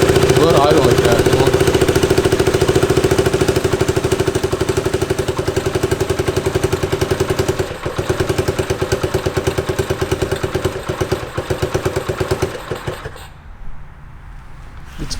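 A barn find motorcycle engine idling, a loud, close, rapid pulsing putter that holds steady for about thirteen seconds before cutting out, with a voice heard over it.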